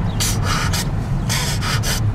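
A voice imitates the weird, gaspy breathing a muskrat makes while being dispatched, with short breathy bursts in two clusters of three over a low steady background.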